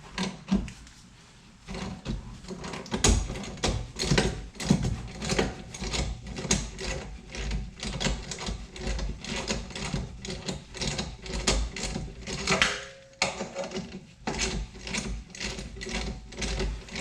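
A ratchet wrench loosens a 15 mm bolt during rear shock replacement on a Ford Fiesta MK6, giving rapid, steady bursts of close metallic clicking with brief pauses between strokes.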